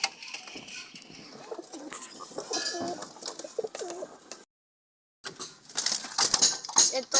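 Soft pigeon cooing and bird calls from pet racing pigeons, with rustling and faint voices nearby, broken by a brief silent gap before the sounds resume.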